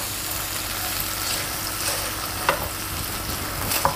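Soy sauce, salt and sugar marinade for fish being stirred in a bowl, a soft continuous scraping hiss with a couple of light clinks from the utensil, close and without talk.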